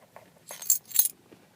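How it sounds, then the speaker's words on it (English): Metallic clinks of car keys going into the ignition of a 1985 Rolls-Royce Silver Spur: two quick, close, bright jingling bursts with quiet cabin hush around them. "Give me 1 second here while I put the keys in."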